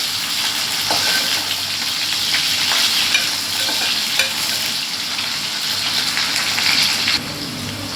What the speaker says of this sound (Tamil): ஹாஃப் பாயிலில் வேக வச்சு நம்ம பொறிச்சு எடுத்துக்கலாம்